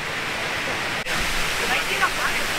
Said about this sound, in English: Isn't that the biggest waterfall we've ever seen?